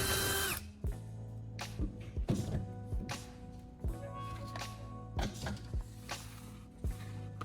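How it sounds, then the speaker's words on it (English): A power drill bores a small hole in the bottom of a metal can. It gives repeated short whirring bursts with brief pauses between them, fairly faint and close, with no talking. "I'm drilling a small hole right in the center of the can's bottom."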